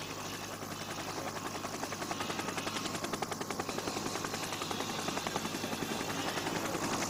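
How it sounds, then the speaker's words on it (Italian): A TV broadcast helicopter over a Giro d'Italia mountain stage beats with a fast, steady rotor chop, a loud continuous thumping drone that holds for several seconds with no talk. "Il nostro elicottero intanto ha lasciato momentaneamente la corsa"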